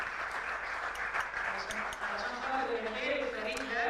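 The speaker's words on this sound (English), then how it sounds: "please let's give them a round of applause" Applause from an audience honoring institute staff at a formal event, a steady broad patter of clapping throughout with voices murmuring underneath.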